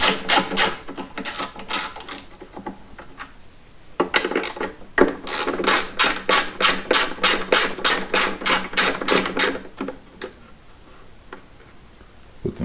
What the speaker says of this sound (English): Got a 5/16 socket with a 1/4 inch extension, 1/4 inch drive ratchet. Taking these bolts out.